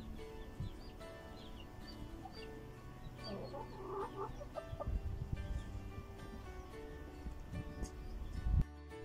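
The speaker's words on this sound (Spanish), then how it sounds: "aquí vamos a verle a mi pavita Kika y a sus hijos en su nuevo corral" A turkey hen and her poults in a new pen: quiet clucking and soft chirping peeps come and go over steady farmyard background noise, with a couple of louder knocks near the end.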